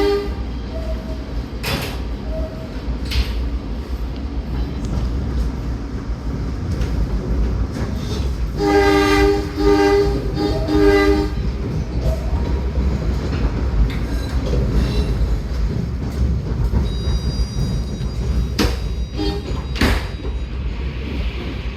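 A PATH train rumbles steadily along the rails in an underground station at Newark Penn Station, with a rising electric whine and screech mid-way, clunks and hiss, and a door chime tone near the end.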